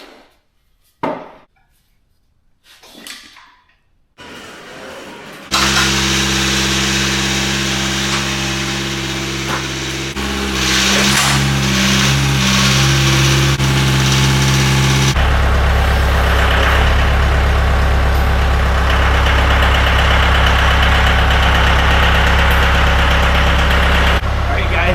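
Tractor engine near a pallet behind a Duramax truck: after a few knocks and a brief rumble, the diesel starts and runs loudly and close, idling steadily with a rev change partway through.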